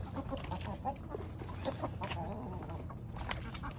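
Chickens clucking close by on a farm, a string of short, irregular clucks over a busy low rumble of background noise.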